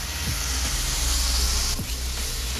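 Steak sizzles loudly in a hot pan just after being flipped, a steady close-up hiss that briefly dips and then continues, with a few soft clinks and no speech.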